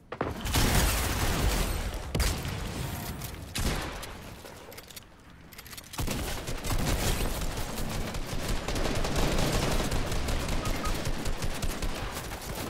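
Rapid sniper rifle fire and gunshots in the Fortnite battle game, a dense, loud stretch of bursts with brief lulls, sounding close throughout.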